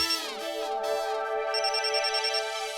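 A mobile phone rings indoors in a domestic drama scene, playing a bright melodic ringtone of sustained tones. It sounds clear and steady at moderate volume, alone without talk.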